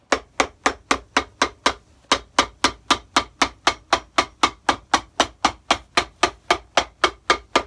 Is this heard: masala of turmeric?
no